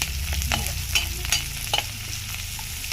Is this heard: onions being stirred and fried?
yes